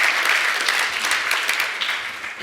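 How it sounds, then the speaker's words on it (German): Steady applause from a conference audience at a panel discussion, dense clapping that holds loud and even for the whole stretch with no voices over it. "Vielen Dank für den freundlichen Applaus."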